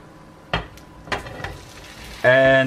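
Potato rösti being flipped with a plate and returned to a frying pan, giving a couple of soft clatters and knocks, then a loud, steady sizzle as the potato hits the hot oil.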